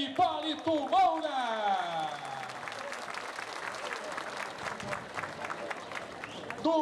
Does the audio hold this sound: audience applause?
yes